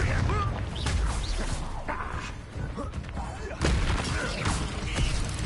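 Confringo fire-spell blasts erupt in Hogwarts Legacy combat, several heavy booming impacts and crashes scattered through a dense, loud battle mix.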